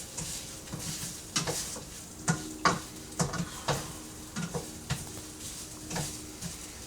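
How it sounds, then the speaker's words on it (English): Spanish rice frying in a pan before any water goes in, with a soft steady sizzle broken by a string of distinct scraping stirs roughly every half second to second, close and fairly quiet. "you can hear that frying in the background"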